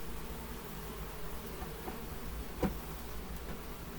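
Honeybees clustered in a beard hanging on the outside of a hive, giving a steady close buzzing drone throughout with a brief louder pass near the middle and no talking.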